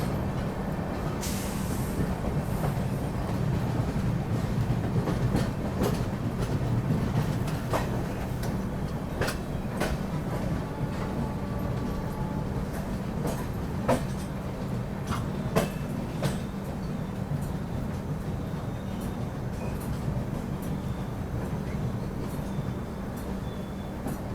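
The Kushinagar Express, running from Gorakhpur to LTT Mumbai, rolls steadily on its rails near Bhopal. A continuous loud rumble with faint irregular wheel clicks lasts throughout, and no one speaks.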